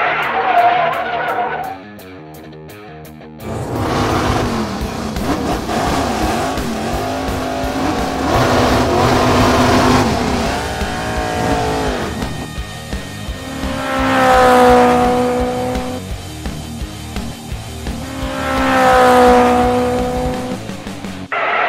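Hot Wheels toy race cars racing, with loud revving engine whines and tire squeals that rise and fall over a steady racing din, swelling to two strong passes near the end.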